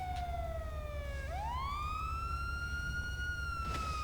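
Police car siren in a video game roleplay, a loud wailing tone that slides down, then sweeps back up and holds, over a steady low engine rumble.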